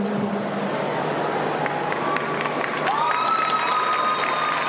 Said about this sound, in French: On applaudit bien fort le groupe Thunderbolt Fantasy.